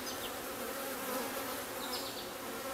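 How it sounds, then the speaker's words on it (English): Honeybees buzz around a damaged honeycomb, feeding on spilled honey after a hive box was removed; a steady, close insect hum with a few louder passing buzzes and no talking. "Here are some bees collecting the honey that was in the comb here that I damaged"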